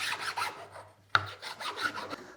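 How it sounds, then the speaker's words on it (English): Sandpaper is rubbed by hand along the edges of a wooden push stick in a workshop. The short raspy strokes come close and fairly quiet, with a brief knock partway through. "then we can hit it with some sandpaper"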